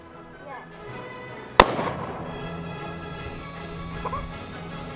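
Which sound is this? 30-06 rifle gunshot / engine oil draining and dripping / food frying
30-06 rifle gunshot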